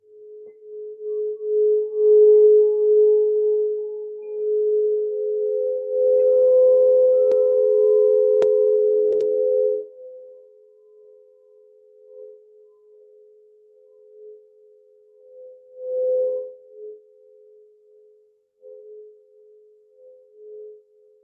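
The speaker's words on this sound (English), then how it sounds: "play the bowl on the floor or in my hand if I want to, or I can play it this way" Crystal quartz singing bowls played two at a time, their sustained pure tones ringing loud and steady, swelling and mixing, then fading to a quieter hum with a brief renewed swell near the end.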